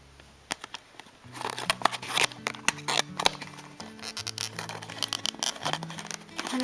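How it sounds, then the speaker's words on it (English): Scissors cutting through tape-sealed packaging of a boxed Sailor Moon figure, with close crinkling plastic and sharp snips in irregular bursts over a low hum. "If I can actually use the scissors properly, because they just don't want to work right now."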